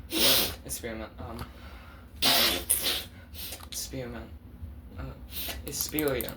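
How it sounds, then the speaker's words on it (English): Several sharp nasal sniffles and snorts come between stretches of quiet talking, close to the microphone. "Sorry for the sniffling."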